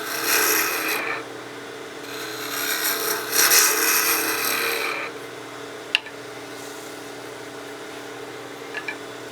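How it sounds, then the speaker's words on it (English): Spindle roughing gouge cutting bulk wood from a spinning blank on a lathe while turning a wooden whistle, bursts of rasping, scraping shavings close up, then a quieter motor hum with a few sharp ticks. "I'll go back to my spindle rough and gouge. This will be just a little bit quicker in removing that bulk material"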